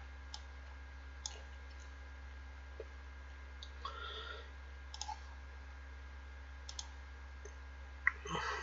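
Sparse computer mouse clicks while working in AutoCAD, single sharp ticks scattered irregularly over a steady low electrical hum, with a faint rustle between them and a louder click near the end.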